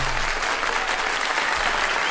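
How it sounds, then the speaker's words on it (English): Audience at a comedy radio show breaks into loud, steady applause that fills the whole moment without any talking over it. "clap it up. Clap it up."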